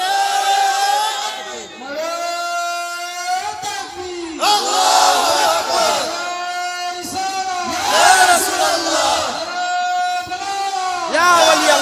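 A large crowd chants back in loud, rhythmic unison after a Takbir call at a Ramadan waz sermon gathering, with several swelling waves of massed voices filling the whole stretch.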